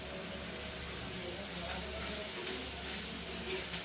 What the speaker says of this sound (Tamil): பூசணிக்காயும் கறி மிளகாயும் வந்து வதங்க விட்டு கிடக்குங்க